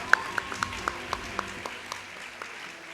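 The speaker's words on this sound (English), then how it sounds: "Can we have a round of applause for all of them?" An audience applauds the graduates at an IB Diploma graduation ceremony in a hall, starting with a few sharp, evenly spaced claps that swell into a steady, softer patter of many hands.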